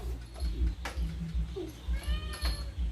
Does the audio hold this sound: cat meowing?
yes